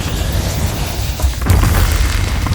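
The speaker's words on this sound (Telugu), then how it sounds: "కుర్రతాత తల ఎగిరి ఆకాశంలో పేలిపోయింది." A cartoon explosion goes off in an animated story as a ghost bursts apart: a deep boom rolls out of a dense rumble and swells into a loud, sustained blast.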